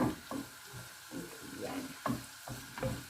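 Garlic frying and being stirred in a pan for a salmon recipe, a steady close sizzle with repeated scraping stirs and soft clunks over about three seconds.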